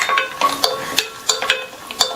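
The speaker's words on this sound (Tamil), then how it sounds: "நெய் உருகுனதும் இதுல 15 போல முந்திரியை சேர்த்து நல்லா பொன்னிறமா வர வரையும் மிதமான தீயில வச்சு வறுத்து எடுத்துக்கலாம்" Cashews frying in melted ghee in a pan over medium heat for payasam, with soft sizzling and a series of light clinks and stirring scrapes at an uneven rhythm, close and alone.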